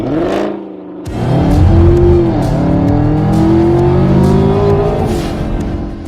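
A Ford Mustang GT500 with a 5.2-liter supercharged 760-horsepower V8 idles briefly, then roars into loud, hard acceleration, its engine note climbing through gears up close with no talking.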